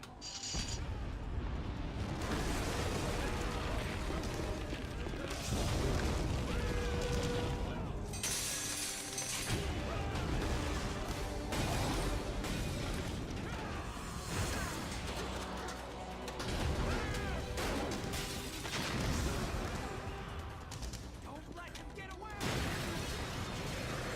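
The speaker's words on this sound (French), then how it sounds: "Michael Bay, explosion dans tous les sens." Explosions in the video game Metal Gear Solid 2 aboard a ship in New York harbor, a long run of loud booms, crashes and shattering with metallic clanks, dense and continuous with a few brief lulls.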